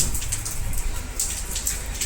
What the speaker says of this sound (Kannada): ಸೊ ಮಳೆ ಬರ್ತಾ ಇದೆ